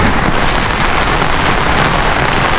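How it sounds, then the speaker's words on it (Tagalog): Heavy rain in Daet: a loud, dense, continuous wash of falling water, steady and close throughout with no breaks and no voices. "Mahirap po pag ganitong ulan."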